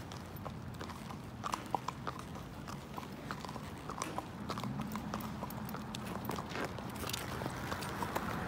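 Horse hooves clip-clop at a steady walking rhythm on the pavement of Main Street in Bristow, Oklahoma, close and continuous under a low background rumble.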